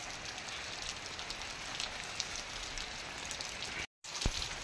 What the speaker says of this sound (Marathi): पाऊस बघा एकदम फुल टू पडतोय.